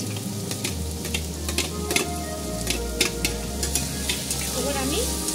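Garlic, onion and green chili frying in a wok, a loud continuous sizzle with scraping stir strokes and light utensil clicks throughout.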